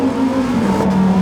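A 2018 Lamborghini Huracan Performante engine howls under hard acceleration, a loud, steady high-pitched wail that shifts tone slightly midway, with no talking over it.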